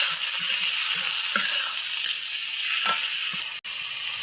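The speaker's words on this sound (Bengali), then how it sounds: "তো ডিম রান্নার জন্য এবার আমি পেঁয়াজ আর জিরে বাটা দিয়ে দিলাম তেলের উপরে।" Onion and cumin paste fries in hot oil, giving a loud, steady, close sizzle throughout with a few faint clinks of a utensil.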